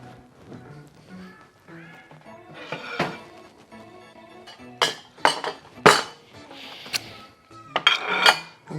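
Dishes and cutlery clink and clatter close by as shrimp and bacon deviled eggs are set onto a plate, with scattered light taps early building to several sharp, louder clinks toward the end, no voices.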